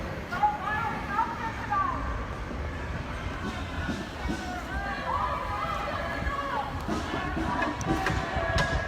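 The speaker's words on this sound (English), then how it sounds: "You can hear they're chanting Black Lives Matter again." A protest crowd outside a federal courthouse in downtown Portland, its many voices merging in a distant, steady chant beneath close talking and scattered footsteps.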